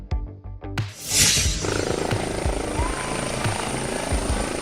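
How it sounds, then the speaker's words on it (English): A police helicopter roars in loudly after a few faint knocks, its rotor thudding in a steady rapid beat with a high engine whine. "Police helicopter."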